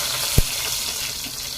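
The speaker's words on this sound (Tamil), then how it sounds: "எண்ணெய் சூடானதும் கொஞ்சமா கடுகு போட்டுக்கலாங்க. இப்ப கடுகு பொரிஞ்சதும் கொஞ்சமா கருவேப்பிலை." Mustard seeds splutter in hot oil at the start of a potato masala, a close, steady sizzle and crackle with one brief knock near the start.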